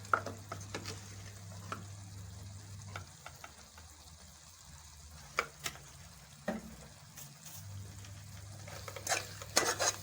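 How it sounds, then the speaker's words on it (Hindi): Spices with black pepper and red chilli powder being roasted in a pan for aloo baliya, heard as a quiet sizzle with occasional scrapes and clicks from stirring, close by, and no one speaking. "अब मसाले को अच्छी तरह से भून लेंगे।"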